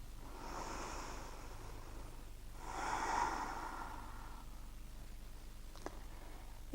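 Slow breathing while holding a yoga pose: two soft, drawn-out breaths close to the microphone, followed by quiet and a faint click.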